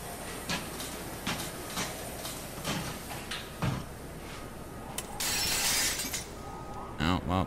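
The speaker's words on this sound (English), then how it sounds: "Well, the glass just broke." Glass breaking during a firefighter forced entry in a house: a sudden bright shattering burst, followed by sharp crunching impacts, heard amid ongoing voices, movement and background noise.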